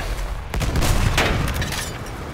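Grenade explosions bursting against a tank in the Battlefield 1 video game, a dense rumble of blasts and gunfire-like cracks filling the whole stretch, loud and continuous with sharper bangs near the middle.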